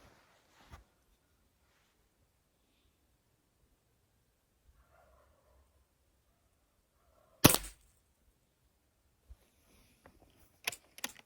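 Test-firing of Öztay Shanghai B1-1 air rifle pellets, one sharp, close, loud shot crack standing out from near silence, with a few smaller clicks and knocks from handling before and after.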